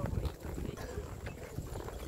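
Horse hooves clip-clop on a trail during a horseback ride in Viñales, Cuba, a steady close rhythm of footfalls with a faint voice in the background.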